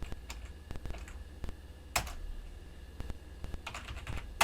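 A computer keyboard is typed on to enter a sudo command and password, with bursts of light, irregular key clicks and a few sharper strokes.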